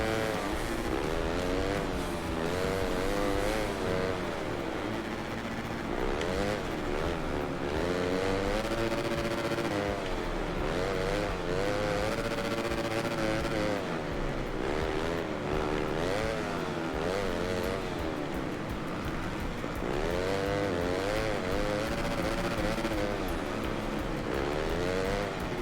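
Race car engine in a racing video game, a continuous loud drone that rises and falls in pitch as the car accelerates and brakes, unbroken for the whole stretch.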